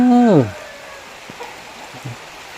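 A voice speaks briefly at the start, then soft, steady rain falls during a week-long wet spell in Chiang Mai, a faint hiss with scattered light drop taps.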